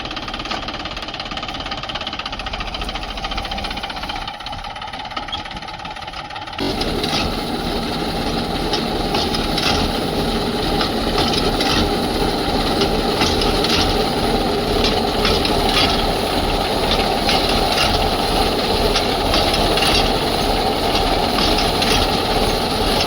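A tractor engine drives a wheat reaper-binder that cuts the crop and ties it into bundles. It runs loud and steady in a dense, continuous drone with a rattling knock, muffled for the first few seconds and then fuller and closer.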